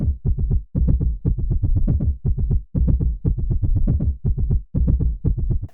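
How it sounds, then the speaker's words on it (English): Heartbeat samples reshaped into tom-like drum hits from the 8Dio Hybrid Voices library play a steady, loud rhythmic pattern of short thumping double strikes, evenly repeating throughout with brief gaps between phrases. "out of the heartbeats I kind of made toms"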